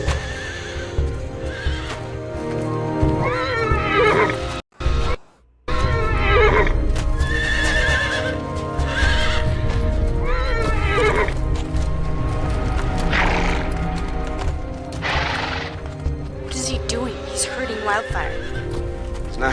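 A horse in the TV show Wildfire neighs loudly several times, with hoof clip-clops and people talking throughout.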